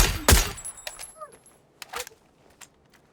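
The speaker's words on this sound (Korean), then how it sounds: "내 앞에 총소리" A loud gunshot followed by a few fainter, sharper shots and clinks in PUBG on Steam, spaced out with quiet gaps between them.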